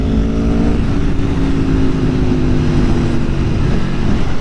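A 2019 Aprilia Tuono Factory motorcycle accelerates hard under throttle, its loud close engine note climbing steadily over strong wind roar with no pauses.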